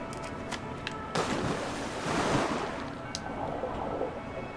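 Water and waves in the Assassin's Creed Valhalla video game, a rushing splash swelling midway over a steady wash of surf and wind, with a few short sharp hits on either side.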